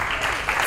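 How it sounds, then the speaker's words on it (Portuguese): Audience applause at a TEDx event in Luanda, a steady wash of clapping from a crowd filling the whole brief moment without pause. "Aplausos."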